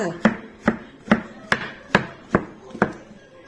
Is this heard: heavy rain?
no